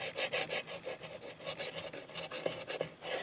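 A Smith & Wesson knife chops chilli on a wooden board outdoors in the New Zealand back country, a close, quiet run of rhythmic scraping cuts.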